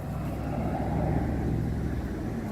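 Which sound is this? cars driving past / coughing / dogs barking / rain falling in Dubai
cars driving past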